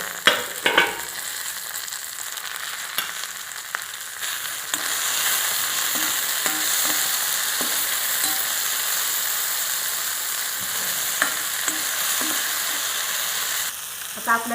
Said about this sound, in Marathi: आता आपण ह्याच्यात टोमॅटो टाकून घेऊ।